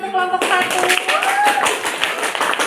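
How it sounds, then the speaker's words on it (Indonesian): Classroom clapping for a student group after a performance, a brisk patter of hands rising out of voices, with people talking over the claps. "Boleh tepuk tangan untuk kelompok"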